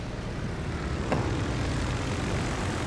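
Propeller aircraft engines drone steadily in the naval combat game World of Warships: Legends, a constant hum with a brief sharp click partway through.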